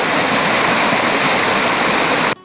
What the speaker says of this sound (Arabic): الشلال السادس او شلال سبلوغا يبدا من هذا المضيق